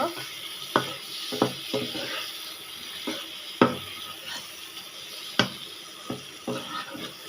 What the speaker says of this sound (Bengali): এবারে মাছগুলো দিয়ে দিলাম সব ভালোভাবে একসাথে মিশিয়ে নেব